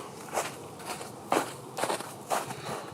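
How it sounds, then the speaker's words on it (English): Faint footsteps crunch through woodland, about five separate steps spaced irregularly, each a short soft burst against a quiet outdoor background. "I swear I heard some footsteps."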